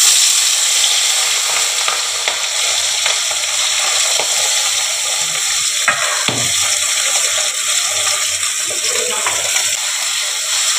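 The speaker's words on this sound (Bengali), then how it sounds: "এই যে সর্ষের তেল আমার গরম হয়ে গেছে, এই মাছগুলোকে আমি ছেড়ে দেবো।" Puti fish (swamp barb) frying in hot mustard oil gives a loud, steady close sizzle that holds evenly throughout, with a brief clatter near the middle.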